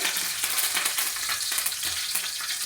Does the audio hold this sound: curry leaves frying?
yes